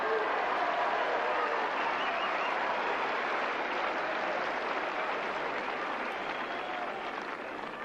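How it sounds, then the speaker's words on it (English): A tennis crowd at the 1987 Roland Garros women's final between Steffi Graf and Martina Navratilova applauds Navratilova in a dense, sustained wash of clapping that holds steady throughout. "Martina getting some applause from the crowd"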